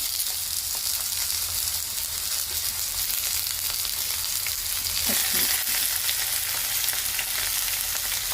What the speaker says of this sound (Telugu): హై ఫ్లేమ్ మీదనే మనము బాగా ఫ్రై చేసుకోవాలి వీటిని